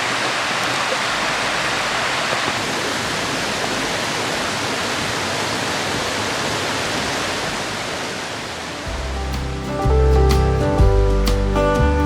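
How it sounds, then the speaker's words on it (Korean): A waterfall cascades into Okryudam pool on Mount Kumgang, making a dense, steady roar of tumbling water for most of the stretch. Near the end a louder, rumbling disturbance close to the microphone breaks in. "수정처럼 맑은 물이 옥구슬로 흩어져 내리는 담소라고 해서 옥류담이라 부른다"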